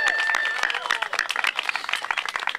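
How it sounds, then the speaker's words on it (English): Audience clapping for Tony Janis at a St. Pete event, a short burst of crisp, fairly close applause that thins out toward the end. "let's give Tony Janis a big round of applause"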